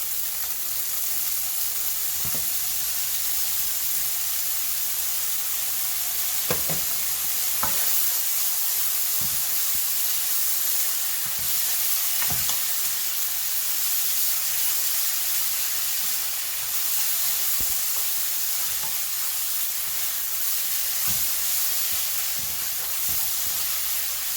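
Noodle gravy sauce with Golden Mountain soy sauce sizzles steadily in a pan over medium heat, a continuous broadband hiss with occasional stirring scrapes and clicks, close and alone without talk.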